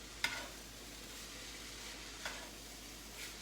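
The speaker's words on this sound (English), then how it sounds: "So we're just gonna saute this up for a little bit with the soy sauce" Rice sautéing with soy sauce in a 17-inch cast iron skillet, a faint even sizzle with three light scrapes or taps of a spatula spaced apart, no talking.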